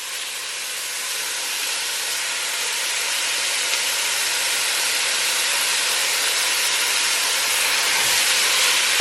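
Meat cooking in a single pot for lasagna soup gives a loud, dense, unbroken hiss of sizzling, close up and slowly growing stronger across the stretch.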